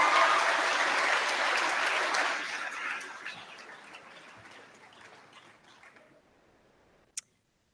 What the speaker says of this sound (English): Give the girls a clap and a bit of a welcome.